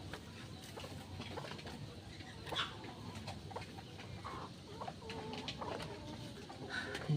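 Chickens cluck intermittently at a moderate distance, with scattered calls over a quiet outdoor background.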